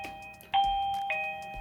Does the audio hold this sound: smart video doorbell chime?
yes